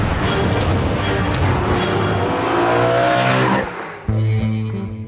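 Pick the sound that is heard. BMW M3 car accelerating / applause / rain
BMW M3 car accelerating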